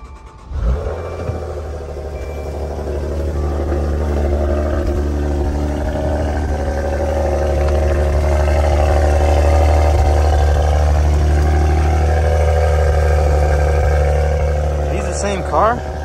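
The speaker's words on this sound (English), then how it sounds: "See how the Audi sound." An Audi with 43,000 miles at a salvage auction, its engine running with a steady low rumble that swells gradually as it revs, close and loud, under continuous talk.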